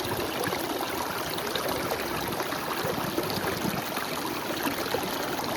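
Outdoors, a water bottle is filled from a clear stream while the current rushes and trickles continuously in a steady, even wash of moderate loudness, with no voices.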